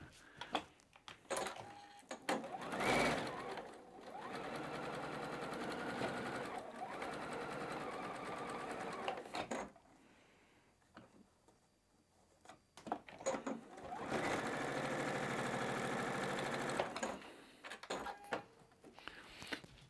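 A sewing machine stitches quilt rows together in long steady runs, loud and close. A quiet pause near the middle separates the first run from the second, and small handling clicks sit between the bursts.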